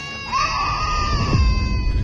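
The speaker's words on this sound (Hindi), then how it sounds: "उसके तीनों बच्चे चीख रहे थे।" Children scream as a dramatic sound effect in a narrated crime story: a rising shrill cry sustained through the clip, loud over a low rumbling background bed, with a brief descending whoosh near the middle.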